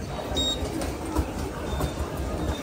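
Steady rumble of a subway train inside a Seoul station, a continuous broadband roar with faint metallic squeals, no talking.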